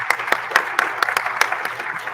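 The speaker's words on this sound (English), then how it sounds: "please join me in giving Mr. Blackman a round of applause" Sparse applause from a small audience at a Federalist Society chapter event at Texas Tech, individual claps spaced out unevenly over about two seconds, fairly close and thin rather than a full ovation.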